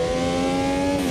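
In the Automobilista 2 racing simulator, a Brabham BT46B fan car's engine holds a loud, steady, high-pitched drone, running continuously at close range with no voices.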